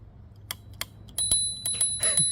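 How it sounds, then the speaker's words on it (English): A small bell on a Hiboy MAX Pro electric scooter rings in a few quick, bright dings, with soft clicks and handling noise between them, close by. "That's the bell."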